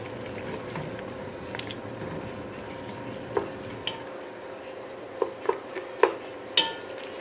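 Onions sautéing with alcohol in a pan for crock pot Yankee pot roast, giving a soft steady sizzle with occasional sharp pops and stirring clinks, fairly quiet throughout.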